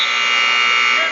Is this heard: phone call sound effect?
no